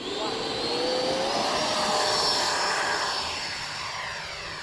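A Freewing Avanti S RC jet makes a pass overhead, its ducted-fan whine swelling to a peak and then fading, with a pitch sweep as it goes by.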